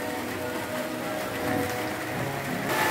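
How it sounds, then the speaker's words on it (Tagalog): Heavy rain pours without pause during a flood with floating debris, a dense steady hiss filling the scene from start to end, nothing else standing out. "Walang tigil ang ulan."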